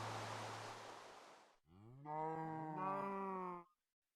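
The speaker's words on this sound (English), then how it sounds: "Come on, cows, I need you." Cows in a video game let out a long, clear moo after a burst of hissing noise, the lowing close and alone with no talk over it.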